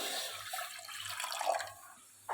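Water splashes steadily into a pressure cooker holding pumpkin pieces with spices and salt, a soft continuous pour that stops near the end.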